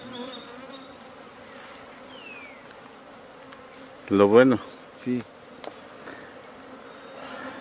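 Bees hum quietly and steadily around a huge honeycomb during a bee rescue, a faint, continuous buzz broken by a couple of short spoken words nearby.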